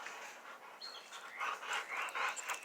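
A bulldog panting softly in quick, rhythmic breaths close by, fairly faint and with no talk over it.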